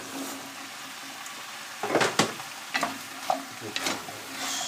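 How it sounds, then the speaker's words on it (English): Parsnips and carrots dropped into a hotpot and stirred, giving a few short sizzling bursts and scraping stirs over a low, steady background, close and moderately loud. "I think we can now put the parsnips and the carrots in."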